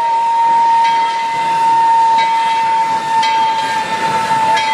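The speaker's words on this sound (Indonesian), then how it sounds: "lihat ada kereta api Thomas." A loud, sustained toy train steam whistle blows in one long steady tone with a hissy edge, sounding close and continuous throughout.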